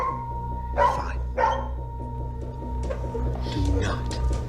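A dog barks twice in short bursts, fairly close indoors, over a steady low hum and background noise; a voice murmurs faintly afterward.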